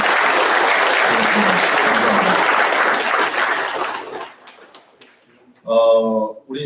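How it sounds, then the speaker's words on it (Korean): Loud, dense applause fills a hall at a Korea–US peace and unification forum for about four seconds, then fades out, and a speaker's voice follows. "다시 한번 뜨거운 감사의 박수로."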